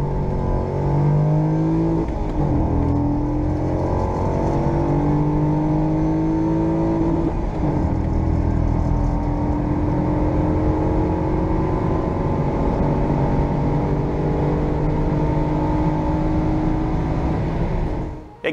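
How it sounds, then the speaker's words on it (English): A Chevrolet Corvette C5 Z06 engine roars continuously while accelerating toward top speed, pitch climbing through gear changes, loud and close from inside the car. "let's test out the top speed of this car."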